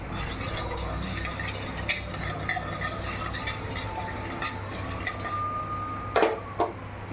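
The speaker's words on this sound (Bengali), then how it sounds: "এবার হাতা দিয়ে একটু সর্ষেটাকে ম্যাশ করে দেবো।" A ladle mashes mustard in a cooking pan, giving a steady, soft scraping and stirring sound, with a couple of sharp metallic clinks against the pan near the end.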